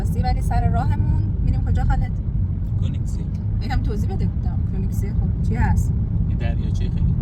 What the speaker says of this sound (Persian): ما سوار ماشین شدیم که بریم به سمت کرواسی